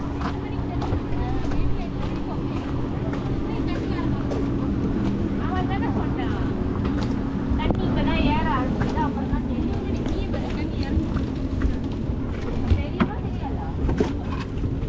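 Motorboat engines drone steadily across the water at Kuala Selangor, Malaysia, with wind buffeting the microphone and people talking over the noise.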